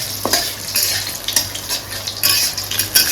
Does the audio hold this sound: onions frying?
yes